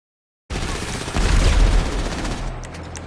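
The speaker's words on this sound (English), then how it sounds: "Why are they all shooting at me?" Rapid bursts of gunfire from a firefight in the video game GTA Online, several weapons firing together in a loud dense volley that swells after a brief silence and then settles into a steady rumble, with some sharp high cracks near the end.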